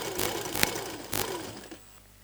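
Short bursts of an electric sewing machine stitching the elastic waistband of palazzo pants, two or three runs separated by pauses before it stops and falls quiet.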